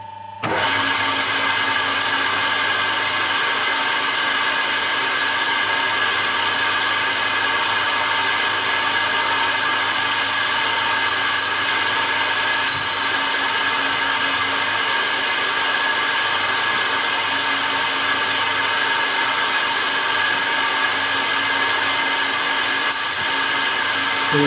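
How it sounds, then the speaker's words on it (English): A tool and cutter grinder runs on a hard cutter with a constant, loud, steady whine that holds unchanged from start to finish, with no talking. "we'll see if we can't make some sparks on this cutter"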